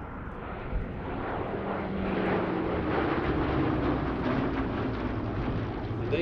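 Hawker Hurricane fighter flying at the Sywell 2024 airshow, its piston engine giving a steady, loud broadband drone that holds level for several seconds with no break.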